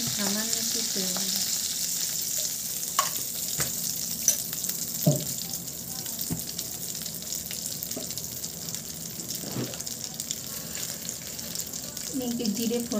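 Cumin seeds and a small bay leaf tempering in a little hot oil in a kadai, a moderate steady sizzle with occasional spoon knocks and scrapes, close up and without talk.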